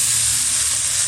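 Boiled taro goes into a pan of spice paste frying in oil, raising a loud, steady hiss and sizzle that holds without a break through the whole short moment.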